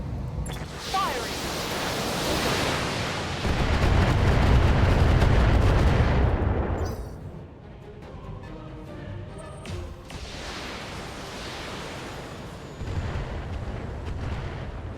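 Weapons fire in the BattleTech mech game arrives as a heavy, roaring barrage that swells and holds for several seconds, dies away, then rises again more softly near the end.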